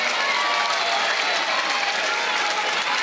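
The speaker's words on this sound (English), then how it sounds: "Crowd loving this." Dense, steady applause with cheering from a large crowd at a premier-level Major League Pickleball match in New York City in 2024. It stays loud and continuous for the whole stretch, with no pauses.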